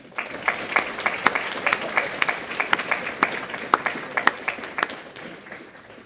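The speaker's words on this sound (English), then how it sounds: "Can I get one more round of applause for them?" Audience at a spring project presentation night claps for a second-place team, a moderate crowd applause with distinct individual claps standing out, tapering off near the end.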